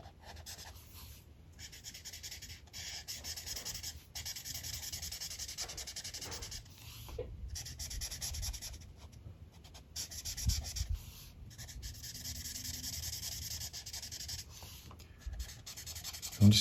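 A brown-grey colored pencil shades a table drawn on a coloring page, giving steady, close, soft scratchy strokes in continuous runs with short breaks and no talking.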